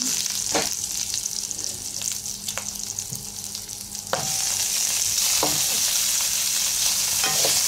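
Pork fries in oil in a pan with a bright, constant sizzle, broken by scraping and clacking as it is stirred. The hiss swells louder and more even toward the end.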